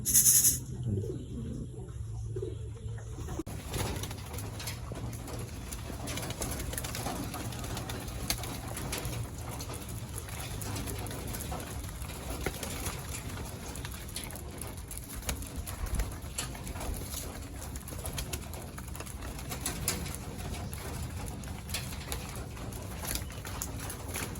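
Pigeons coo repeatedly in a loft, soft low throaty calls overlapping at close to middle distance over a faint hum, continuing throughout.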